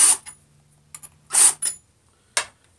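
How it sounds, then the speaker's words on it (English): A hand chamfering tool is twisted against the mouth of a 7.62x54R brass case, giving a few short scraping, ratchet-like bursts separated by brief pauses, close and fairly crisp. "So we're going to have a chamfering tool like this, and we're going to just give it a quick chamfer."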